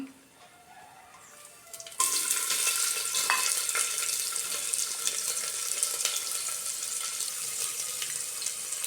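Onions drop into hot ghee with cinnamon, cloves and cardamom for egg fried rice, setting off a sudden loud, close, steady sizzle after a quieter opening, with faint clinks of stirring.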